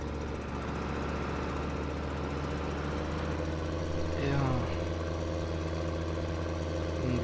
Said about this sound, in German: Unser schöner Steier hier. Ich mag diesen Traktor.